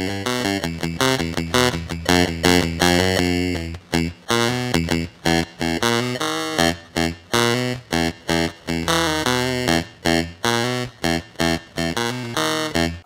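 Crunchy, buzzy electric guitar through an 8-bit crusher pedal with a harsh lo-fi bitcrushed tone, playing chopped low riffs in rapid stabs with short gaps, loud and up close.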